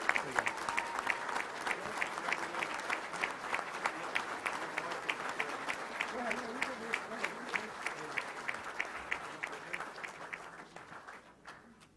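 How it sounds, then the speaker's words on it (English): Sustained audience applause at a touchdown club luncheon honoring a prep football player of the year, steady dense clapping with crowd murmur underneath, tapering off at the end. "that's worth a round of applause right there"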